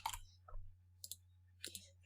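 Several small, sharp clicks of a light switch being flipped on beside a computer keyboard, spaced apart over a low steady hum, fairly quiet and close.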